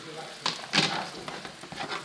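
Three chopped tomatoes hit hot olive oil in a pan and fry with an uneven sizzle, rising in short louder bursts over a steady crackle, close up with no talking.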